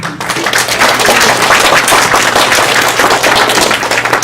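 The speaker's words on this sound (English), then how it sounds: "let's give Senator Bob another round of applause" Loud, dense round of applause from an audience at a Kumon celebration in Kenmore, steady crackling claps filling the whole span without talk.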